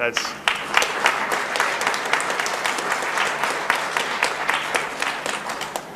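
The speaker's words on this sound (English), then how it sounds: "I think that deserves a round of applause." Audience applause breaks out after a ministerial forestry-sector announcement at a company site, a dense, steady wash of many hands clapping close by that carries on for several seconds without letting up.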